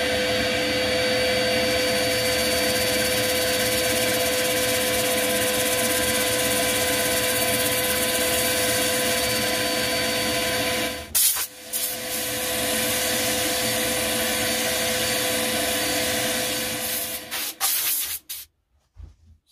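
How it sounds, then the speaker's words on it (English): Continuous broadband hissing and rushing of 60-grit sanding on wood spinning on a lathe, steady for a long stretch, briefly interrupted, then resuming before stopping. "I'll start sanding at 60 grit"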